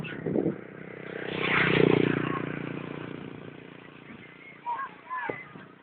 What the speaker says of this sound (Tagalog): May motor na paparating.